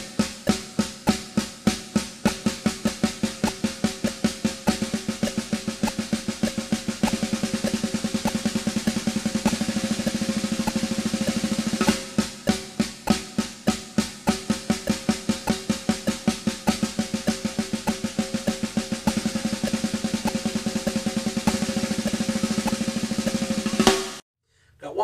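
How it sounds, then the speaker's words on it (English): Rapid single-stroke triplets on a snare drum, played as a pyramid exercise: a dense, even stream of crisp hits that runs nearly nonstop, with a brief regrouping midway, close and unaccompanied before stopping abruptly. "Exercise I like to do is a triplet pyramid, and that should sound something like this."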